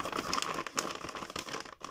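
A stapled-shut paper surprise bag being torn open, with close, continuous crinkling and ripping of paper over a couple of seconds, ending in a brief pause.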